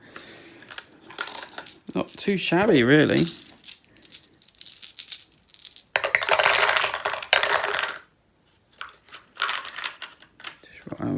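Dice clattering down through a board game dice tower into its tray, rattling in short bursts between stretches of talking.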